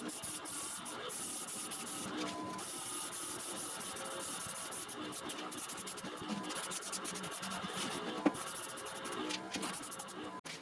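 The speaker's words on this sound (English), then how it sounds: "once the airbrush painting is done" An airbrush hisses steadily while spray painting model railway track, a soft continuous airy spray with intermittent scratchy bursts and one sharp tap near the end.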